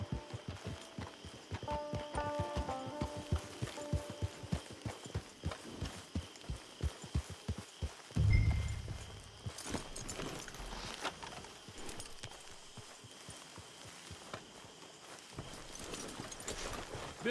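Steady clip-clop of horse hooves walking at an even pace, close by, with a brief whoosh and rumble partway through and ambient game sound beneath, in Red Dead Redemption 2.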